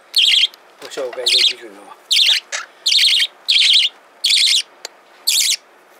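Budgerigars and monk parakeets chirp in repeated bright bursts about twice a second, loud and close, with a short stretch of a person talking early on.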